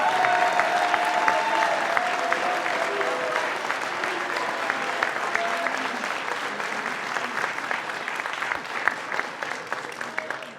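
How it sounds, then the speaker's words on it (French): Audience at a mayoral election speech in Montesson, France applauds the team warmly, a dense, steady wash of many hands clapping throughout, with a few brief voices mixed in. "Merci de les applaudir également très chaleureusement."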